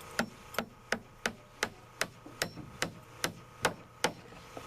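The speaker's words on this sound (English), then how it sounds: "it's nice to have help when you're nailing off a floor by hand" A small hand hammer nails off a wooden subfloor by hand, striking about a dozen sharp, evenly spaced blows, close and clear with nothing else in the background.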